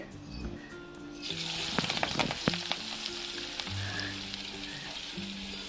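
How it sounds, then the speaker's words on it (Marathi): Chopped onion goes into hot oil with crackling cumin seeds in a pan, making a sudden loud sizzle that settles into a steady fry with a few stirring knocks, all close and without voices. "तेल आपलं तापलेलं आहे आणि जिरं पण तडकलेलं आहे तर त्यामध्ये आता मी कांदा टाकते"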